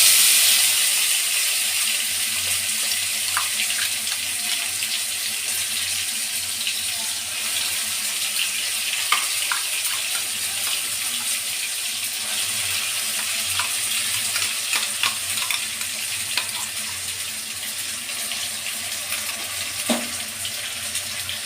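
A ground paste of radhuni, whole cumin, coriander, chilli and ginger fries in hot oil as a tempering for vegetable khichdi. It gives a loud, steady hissing sizzle throughout, with occasional small pops and clicks.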